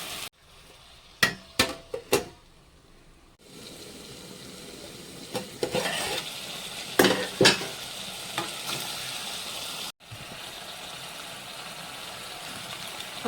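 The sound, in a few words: stirring chicken curry frying in a pan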